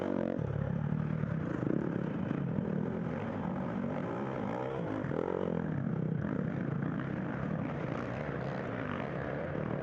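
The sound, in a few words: dirt bike engine revving hard during GNCC race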